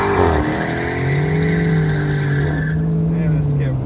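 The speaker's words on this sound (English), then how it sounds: "that scat burned the fuck out" A Dodge Charger Scat Pack doing a burnout, its tires squealing in a loud sustained screech over engine roar that holds steady for several seconds before easing off.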